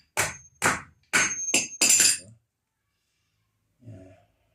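Five sharp hammer strikes drive U-nails into the corrugated iron sheeting of a garden raised bed, each a loud metallic knock in quick succession, followed by a pause and one fainter, softer tap.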